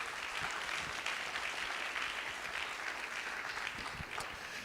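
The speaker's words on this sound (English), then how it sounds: "that's something I think we can all give a round of applause to" Audience at a venture competition final round clapping steadily, a dense, even wash of applause from a full room, moderately far and sustained throughout.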